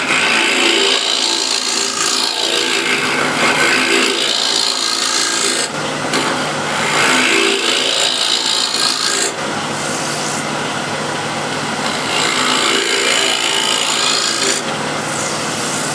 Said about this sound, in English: I will scrape on the bottom with the shear scraper, get it slightly undercut